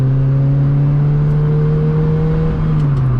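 A 2005 Lotus Exige S2 with its Rover engine drives along, the engine droning loudly and steadily with a strong sustained tone that sweeps slightly in pitch, heard from inside the car with no talk.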